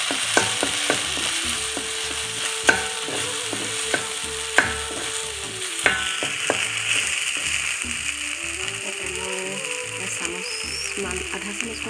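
Boiled potato dropped into hot oil in a pan for a fish and herb curry sizzles steadily up close, with sharp clacks and scraping of a utensil against the pan throughout.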